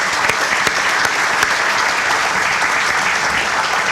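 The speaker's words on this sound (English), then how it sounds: "Let's give all these great Pirates a big round of applause" Crowd applause at a stadium renovation groundbreaking, a steady wash of clapping from many hands with a few sharper nearby claps standing out, sustained evenly throughout.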